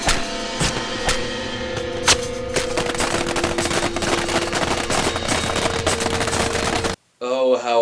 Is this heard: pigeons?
no